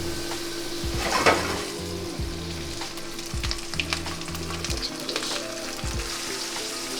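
Dollops of butter sizzling in a hot pan, a constant crackling fry with low rhythmic scraping strokes underneath, close and even.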